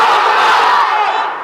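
A large crowd of unmarried young men at an Islamic sermon gathering shouts the takbir chant in loud unison. The massed voices form a single sustained roar that tapers off slightly at the end.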